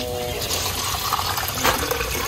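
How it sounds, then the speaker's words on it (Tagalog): Water pouring into a cooking pot holding meat and sweet potato, a steady close splashing fill that continues for a couple of seconds. "Lalagyan po natin ng tubig."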